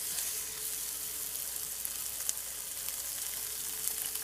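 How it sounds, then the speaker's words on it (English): Seasoned chicken browns in a Cuisinart stainless steel saucepan on a hot plate outdoors, giving a steady, close, bright sizzle with light crackles and no talking. "we're gonna brown this on both sides for a minute"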